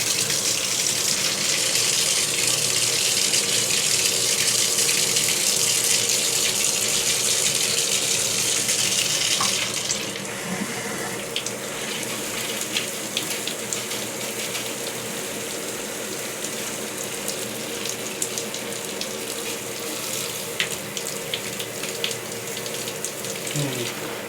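A new shower head sprays water in a steady, loud hissing rush that drops somewhat in intensity about halfway, continuing as a softer splashing flow to the end.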